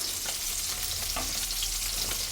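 Sago vadas frying in hot oil while being turned over, a steady dense sizzle running throughout with a few soft clicks and scrapes as the pieces are flipped.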